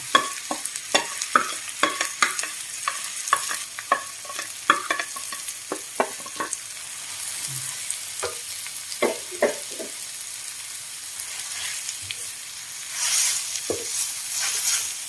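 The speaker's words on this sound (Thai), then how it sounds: "ผัดกระเทียมหอมแล้วคันนี้เราก็จะใส่เส้นมะละกอลงไป" Papaya strips and garlic stir-fried in a wok, a steady run of sharp spatula scrapes and clatters over a low sizzle, with a brighter hiss swelling near the end.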